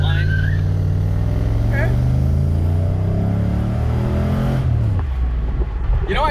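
An LS V8-swapped Mercedes pulls off the line with a loud, close engine drone that climbs steadily, then drops off sharply near the end; a voice speaks briefly.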